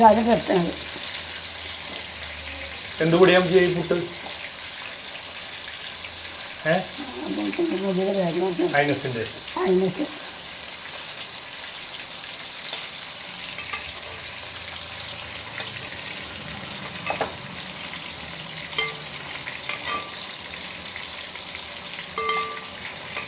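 Large fish fried in masala in a pan, sizzling under louder bursts of speech and kitchen handling noise, with a brief stretch of running water.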